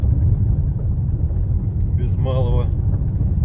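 A car on the Kolyma highway gives a steady, close interior rumble while someone speaks briefly over it.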